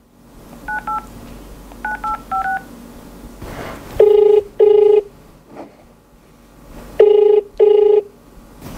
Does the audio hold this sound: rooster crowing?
no